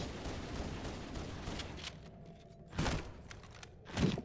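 Gunfire in Halo CE: a rattling burst of shots up front, then a brief lull broken by two louder, sharper blasts spaced about a second apart.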